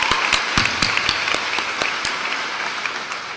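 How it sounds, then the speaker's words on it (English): Graduation audience clapping at a university commencement ceremony, a thin scattering of sharp hand claps over a broad, steady wash of applause from a large crowd, moderately loud and without speech. "Now you can clap again."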